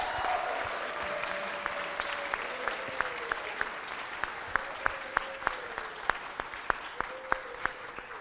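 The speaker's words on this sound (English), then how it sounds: "Give them a round of applause." An audience at a city council meeting applauds after the council declares Blacks in Cinema Day. The claps are crisp, dense and sustained, heard moderately loud from within the chamber, with a faint tone underneath.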